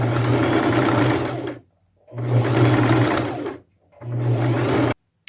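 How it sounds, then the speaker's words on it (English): A sewing machine stitches an artisan bag made from upcycled materials with gold-colored thread, running in three steady whirring bursts separated by short pauses, close and fairly loud with no talking. "I'll just keep lining it up as I sew"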